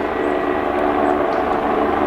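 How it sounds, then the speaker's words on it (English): A helicopter lifting off from a building rooftop nearby produces a loud, steady engine and rotor drone that holds without a break. "There's a helicopter landing on that building up there. That's what we're hearing."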